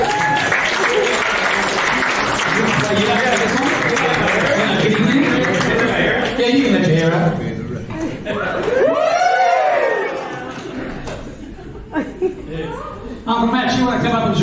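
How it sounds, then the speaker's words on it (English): An audience claps through most of the stretch at a community Aboriginal cultural dance performance, the steady broadband clatter mixed with chatter, light laughter and overlapping voices, thinning in the middle before picking up again near the end. "Give me a clap."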